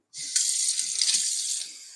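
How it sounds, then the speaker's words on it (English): Cold tap water gushes into a container for rinsing an artichoke, a close, steady hissing stream that starts abruptly, runs without a break and eases off slightly at the end. "So you fill it up with cold water. You rinse it out."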